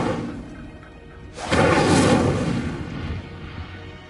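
A spell-cast fire blast in a wizarding video game erupts after a quiet lead-in as a loud whooshing roar that swells, holds for about a second, then gradually fades.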